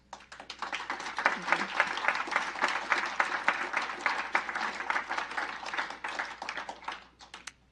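Applause from the audience at an Ulster County legislative session: a dense, steady burst of many hands clapping for several seconds, moderately distant, then tapering off, with no talking over it.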